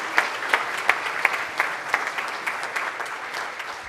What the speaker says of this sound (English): Let's give all of our visitors and visiting Rotarian a big round of applause